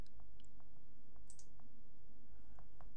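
Computer mouse clicks while operating RDWorks laser software: several faint, sharp clicks spaced irregularly over a low steady hum, with no talk.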